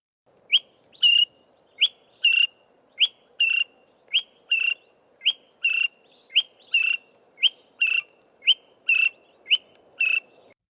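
A greater honeyguide repeats a sharp, distinctive chirp over and over in a steady rhythm, clear and fairly close with nothing else around it.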